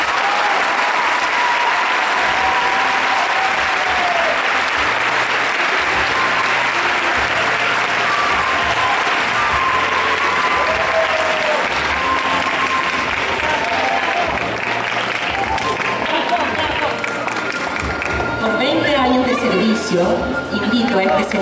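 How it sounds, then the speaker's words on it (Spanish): A large audience applauds at a school's 55th anniversary ceremony, sustained loud clapping for about twenty seconds with crowd murmur and a few voices mixed in. "Despidámoslos con un fuerte aplauso."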